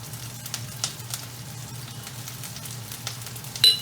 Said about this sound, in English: And then I'm going to throw in some of the, or all of the kale stems